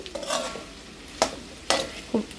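A spoon stirs vegetables frying in a pan. A soft sizzle runs underneath, and sharp scraping strokes stand out at close range: one early, then three distinct scrapes spaced about half a second apart.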